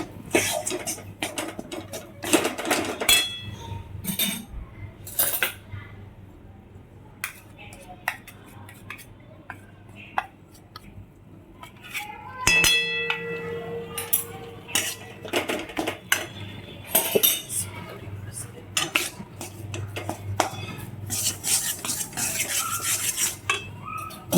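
Sukhadi mixture being stirred and roasted in a pan over low heat, with repeated metallic spoon scrapes and clinks against the pan in irregular bursts and a faint sizzle underneath.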